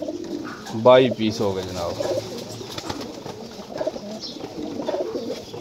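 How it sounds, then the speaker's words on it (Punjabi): Pigeons coo in a loft where a man counts birds and praises a white pigeon, his voice dominating the start while soft coos and bird sounds continue beneath the ongoing talk. "ਚਿੱਟਾ ਸੁੰਦਰਾ ਕਬੂਤਰ"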